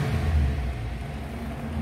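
A 1969 Ford Itamaraty engine revs up steadily from idle, a loud, continuous low rumble that holds without misfiring, close by and alone.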